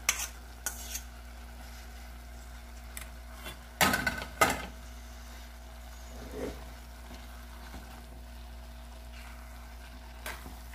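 A quick, simple dinner gets stirred in a pan: faint scraping and soft sizzle, broken by a few sharp utensil clanks against the pan near the middle, with quiet stretches between.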